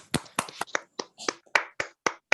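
Scattered claps from a few people, about ten sharp separate strikes in an uneven rhythm, close and fairly quiet, as a small online class applauds a guest speaker.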